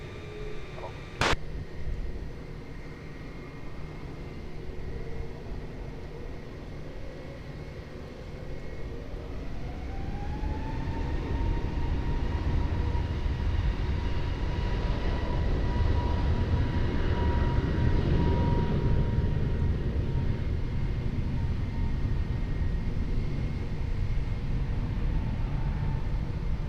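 An airliner takes off from runway 20 at Lisbon Airport, its engine roar swelling from a distant rumble into a loud, sustained broadband rush with a steady whine, after a single sharp click near the start.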